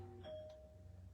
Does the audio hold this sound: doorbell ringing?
yes